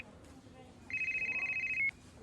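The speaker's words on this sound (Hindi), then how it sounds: "तभी मेरा मोबाइल बजा।" A mobile phone rings indoors with a steady, bright electronic tone of about a second, pulsing rapidly, cutting off abruptly amid low background murmur.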